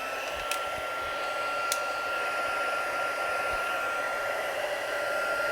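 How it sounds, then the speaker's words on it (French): A heat embossing tool blowing hot air for craft embossing, a steady, close whooshing drone with a high whine, running alone throughout. "Et là, on va utiliser notre fer à embosser."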